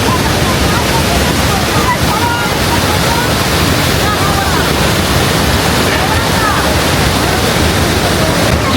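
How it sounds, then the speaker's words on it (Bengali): A powerful waterfall pours down hard at Rabchik point on a snowy mountain road, a dense, steady roar close by that fills the whole stretch without a break. "কত জোরে ঝর্ণাটা পড়ছে দেখুন আমার পেছনে"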